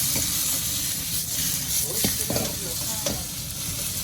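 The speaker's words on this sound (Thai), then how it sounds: "แล้วก็ผัดให้ผักสุก ตัวน้ำมันให้มันหอมนะครับ" Vegetables stir-fried in oil for a sweet and sour dish, with a steady close hiss and sizzle and periodic spatula scrapes against the pan.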